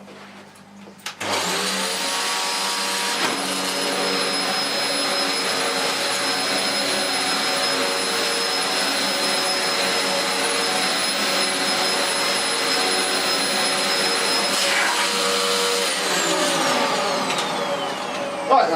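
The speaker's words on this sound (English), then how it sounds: "Vacuum the area thoroughly." A Dyson DC04 Zorbster vacuum cleaner switches on with a thump and runs on carpet, its loud, steady motor whine holding for about fifteen seconds before the pitch starts to wind down near the end.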